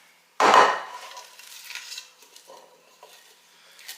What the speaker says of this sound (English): let's see if we can scrape the rest of it out with a spatula